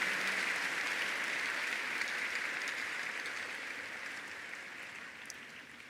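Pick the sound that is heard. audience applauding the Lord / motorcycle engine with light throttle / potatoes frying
audience applauding the Lord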